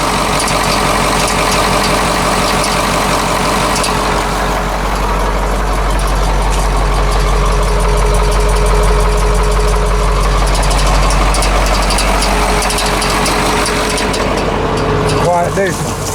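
A GMC 6000 diesel truck, started for the first time in years, idles with a loud, steady low rumble and a fine rhythmic knock that continues evenly throughout.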